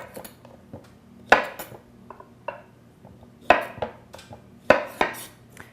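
A kitchen knife cuts the ends off zucchini on a cutting board, giving sharp, scattered taps and clacks at close range, with a few louder knocks spaced across the clip and no talking.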